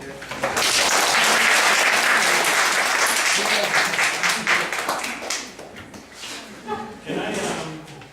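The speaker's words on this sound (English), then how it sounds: "big applause for them" An audience at a special lecture breaks into loud applause that swells quickly, holds dense for several seconds, then thins into scattered claps with a few voices nearby.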